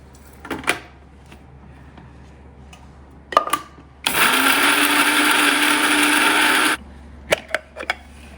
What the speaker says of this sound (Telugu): ఇప్పుడు నేను గ్రైండ్ చేస్తున్నాను.